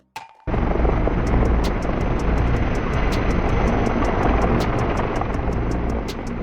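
A Sikorsky S-64 Skycrane firefighting helicopter with an external water tank roars loud and close. A dense, steady engine and rotor wash carries a regular thumping rotor beat throughout, with no voices.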